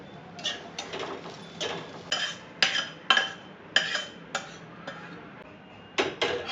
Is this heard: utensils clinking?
yes